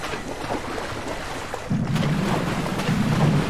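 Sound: water leaking into submarine in IronWolf VR video game

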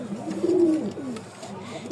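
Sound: pigeon cooing call

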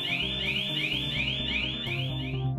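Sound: LEADER Sentry structural movement monitor's 98 decibel audible alarm

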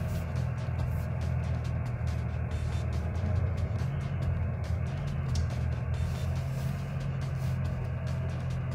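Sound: traffic sounds from a driver training simulator

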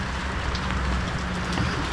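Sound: rain falling on a van

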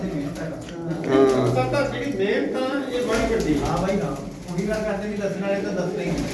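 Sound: pigeons cooing

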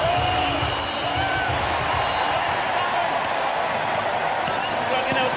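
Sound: cricket crowd at Barbados Test entertaining themselves

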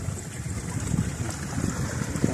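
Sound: flowing water of a waterfall

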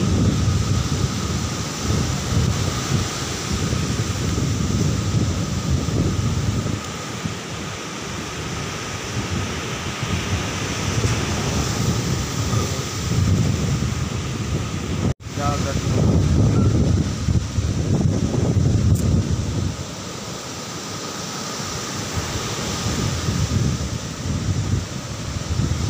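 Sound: wind blowing on a beach in Southern Leyte

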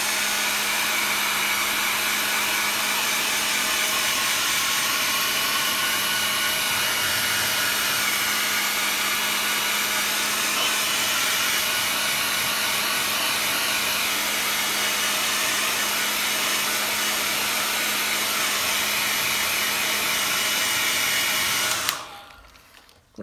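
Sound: hair dryer drying a watercolour painting

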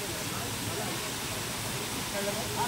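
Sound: waterfall rushing in Goa

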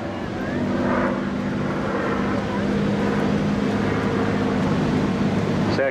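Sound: Spitfire aircraft flying past at an airshow

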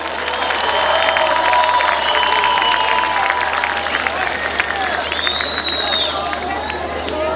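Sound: crowd applauding and cheering at outdoor event

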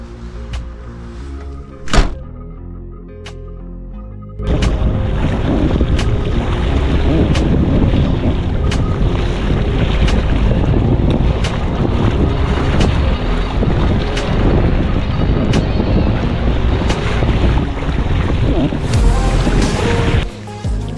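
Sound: strong wind during storm on lake while fishing from boat

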